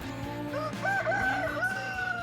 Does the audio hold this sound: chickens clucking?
yes